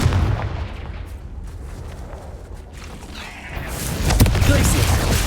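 A blasting spell detonates in a cave maze in Hogwarts Legacy with a booming explosion, then a rumbling tail and a second burst near the end.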